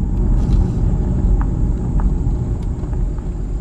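A car drives along a major road through the town of Centralia, Pennsylvania, its steady engine and tyre rumble filling the cabin continuously, with a few faint clicks and knocks over the drone.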